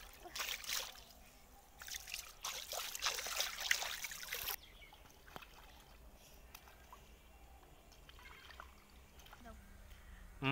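Cut rohu fish pieces are rinsed under running tap water, with loud splashing and pouring for the first few seconds, followed by quieter trickling and handling of the fish.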